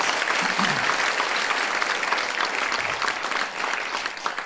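A gala audience at a children's cancer charity evening applauds steadily, a dense wash of many hands sustained throughout and tapering slightly at the end.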